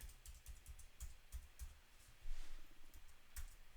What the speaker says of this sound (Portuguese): vamos digitar o CPF